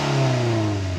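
A Mazda MX-5 Miata's exhaust revs briefly, heard at the back, a strong steady engine drone with rising pitch, loud and close.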